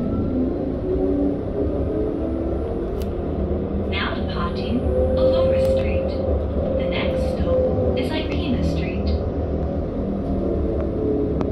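Interior of a CAF Urbos 100 tram riding through Canberra: a steady loud rumble and rolling hum of the car in motion, with faint squeals and rattles layered above it throughout.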